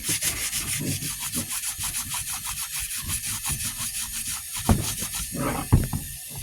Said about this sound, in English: Scrub this down pretty quick like.